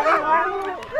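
Excited sled huskies yelp and whine in short, rising cries, close and fairly loud, with people talking over them throughout.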